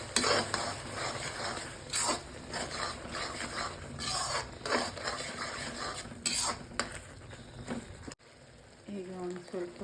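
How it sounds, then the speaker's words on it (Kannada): Ground masala paste frying and being stirred in a pan for prawns masala, with steady scraping and clinks of a spoon against the pan and a soft sizzle throughout, close and moderately loud, briefly dropping out near the end. "ಈಗ ಇದು ಹಸಿ ವಾಸನೆ ಹೋಗೋವರೆಗೂ ಚೆನ್ನಾಗಿ ಪೇಸ್ಟನ್ನು ಫ್ರೈ ಮಾಡ್ಕೊಳ್ಳೋಣ"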